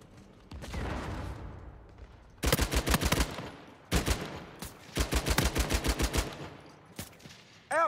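Video game gunfire in Uncharted 4 multiplayer: rapid automatic bursts of shots in several clusters, with some single reports and a rumbling blast early on, moderately loud.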